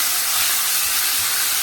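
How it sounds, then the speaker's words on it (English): Minced chicken sizzles in a frying pan with a loud, steady, bright hiss that runs unbroken and close throughout, with no talk over it. "let it fry up for a little while"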